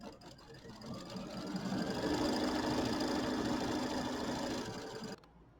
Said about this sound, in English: so now we're going to do the quilting. So we'll get the quilting started here